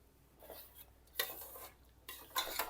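Garlic, onion and drumstick leaves stirred in a kadai, with repeated scraping and clinking of a utensil against the metal pan in short uneven bursts, close by and fairly quiet.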